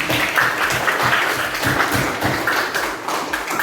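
Clapping from a class during a teaching practice lesson, a loud, even patter of many hands lasting a few seconds with no talk over it.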